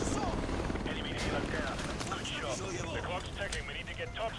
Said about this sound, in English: We needed this for this helicopter that's about to come down.